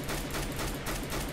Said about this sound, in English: The guy's just shooting at me.